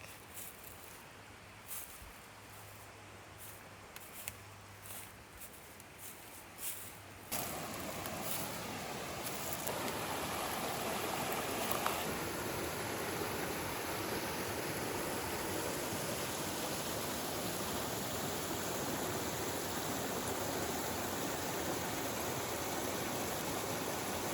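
Flowing creek water in the Snowbird Wilderness makes a steady broadband rush, quieter at first with a few clicks, then fuller and continuous as it carries on alone.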